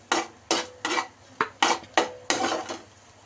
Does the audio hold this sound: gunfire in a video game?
no